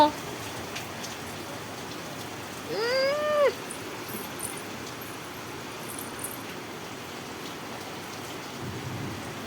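Steady rain falls outside in an even hiss, while a cat lets out one short meow partway through.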